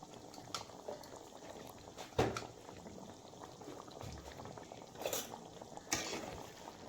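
Water boils in a pot with a constant bubbling hiss as fish pieces are added for a Bengali-style poppy seed fish curry, broken by a few sharp clinks of utensils.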